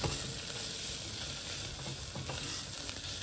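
Cardamom, cloves and other whole spices sizzling and frying in a hot pan, a steady close crackle with faint stirring, no voices.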